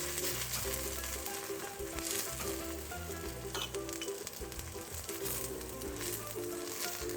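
Gobi paratha sizzles in oil on a cast iron tawa with a steady, dense crackle that continues for the whole stretch, while a faint tonal background sound runs underneath.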